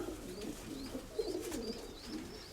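Pigeons in a coop coo softly and continuously, low murmuring calls close by with occasional faint higher chirps over them.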